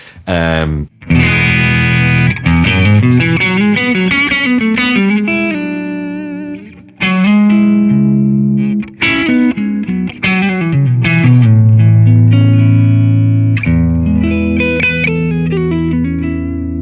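An electric guitar through a Line 6 POD Go amp modeler, with a compressor in front of a Litigator amp model, plays chords and melodic runs with distortion and reverb, loud and close, with brief pauses between phrases.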